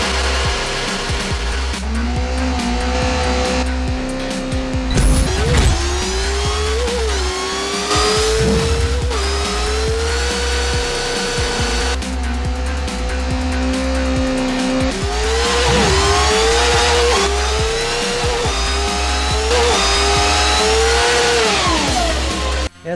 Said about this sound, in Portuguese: Vamos escutar a moto andando.